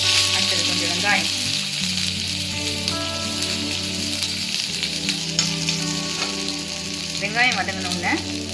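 Onion frying in a spoonful of oil in a kadai gives a steady, close, dense sizzle and crackle throughout, with light stirring and background music.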